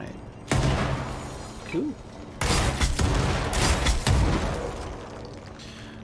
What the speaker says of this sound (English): Fire a single adhesive grenade, and then RT to detonate that grenade